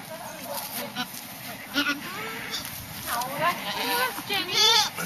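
A goat bleats a few times close by on a farm, its wavering calls mixed in with people talking nearby.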